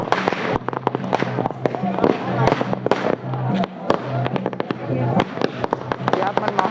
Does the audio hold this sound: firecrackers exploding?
yes